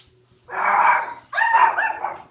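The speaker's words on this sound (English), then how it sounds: "Puppies in the house." Puppies bark indoors in two short bursts, close and fairly loud, with a brief gap between them and no talking.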